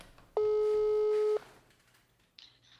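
A telephone line tone sounds while a call is being placed: one steady, loud beep of about a second, followed by quiet line noise and a faint later blip.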